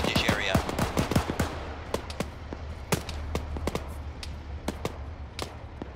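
Bursts of automatic rifle fire and single gunshots ring out in a military video game, a rapid cluster of sharp cracks followed by scattered, more distant shots, with squad members talking over the radio in places.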